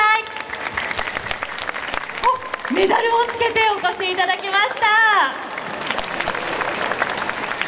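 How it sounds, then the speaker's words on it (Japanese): An audience welcomes a London Olympics fencing silver medalist onto a stage at a prefectural festival event with applause. The clapping runs throughout, someone talks over it, and rising music swells in the middle. "大きな拍手でお迎えください"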